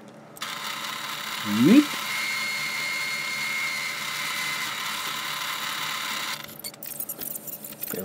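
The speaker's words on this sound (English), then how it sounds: "Getting rid of the threads on the lathe, and just going to part it off." Metal lathe parting off a handle, a steady whirring hum with a harsh grinding buzz that runs for several seconds then stops abruptly, with a brief spoken word near the start.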